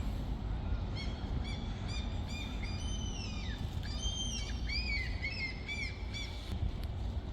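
Several birds call outdoors in Bergen, Norway, with repeated chirps and whistled, sliding notes rising and falling over a steady low rumble of distant traffic and city ambience.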